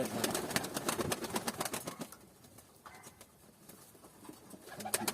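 Pigeons coo and rustle as they eat purslane, with bursts of wing flaps, busiest at the start, then softer murmuring before another flurry near the end.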